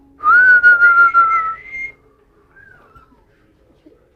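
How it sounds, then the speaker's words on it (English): A person whistles a short wavering tune, close and clear, lasting under two seconds before quiet settles in. "Can we hear a whistle?"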